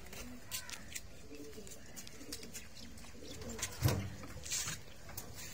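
A racer pigeon coos softly in a loft among other pigeons, with a few low, rounded calls and faint chirps; someone speaks quietly in between.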